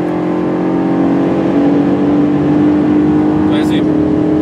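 A RENNtech-tuned sports car engine drones steadily from inside the cabin while accelerating toward 100 miles an hour, a loud, continuous low roar with muffled voices faintly underneath.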